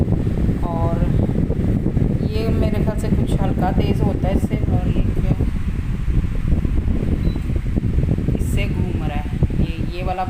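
An Italian remote-controlled pedestal fan runs and oscillates side to side at a fairly high speed, its steady whooshing airflow filling the room continuously beneath a man's nearby speech.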